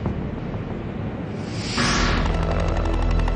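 Helicopters fly nearby at the Munich military airport during the 1972 Olympics massacre, a steady loud rotor and engine roar that swells sharply partway through and holds, with no talk.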